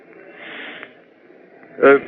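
A voice imitates a hissing sound, like a rocket, with a breathy sustained hiss followed by a short voiced burst at the end.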